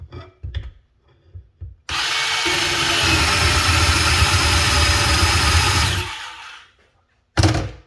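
A Dewalt bandsaw cuts for about four seconds, a loud sustained gritty roar that starts abruptly and winds down, with handling knocks before it and a brief burst after.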